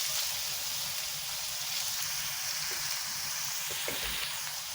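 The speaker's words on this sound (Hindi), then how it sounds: "अब इसको लहसुन अदरक को हम इसमें शामिल कर देते हैं, इसको भून लेंगे थोड़ा सा" Garlic and ginger fry with achari spices in a pan for aloo gobi, giving a steady close sizzle with a few soft stirring knocks.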